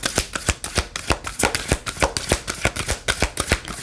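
Love oracle tarot cards are shuffled in quick, crisp riffling bursts, close and rhythmic, with no talking.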